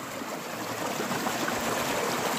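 Water rushes continuously at Konka waterfall in Jharkhand, a dense, steady broadband roar without pauses or speech.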